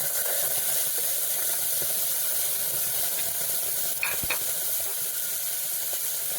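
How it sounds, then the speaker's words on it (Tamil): Tomatoes, curry leaves, ginger and garlic sauté in a pot for one-pot dhal rice, giving a steady close hiss and sizzle throughout, with a couple of brief utensil clicks near the middle. "இஞ்சி பூண்டு எல்லாம் சேர்த்து நல்லா வதக்கிக்கணும்."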